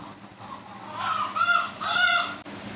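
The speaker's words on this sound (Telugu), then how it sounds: "పక్కన మా కోళ్ళు అరుస్తున్నాయి." Chickens calling nearby, a few loud squawking cries rising and falling close by against a quiet background, with no talk.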